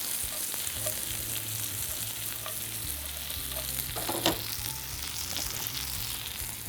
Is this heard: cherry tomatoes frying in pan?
yes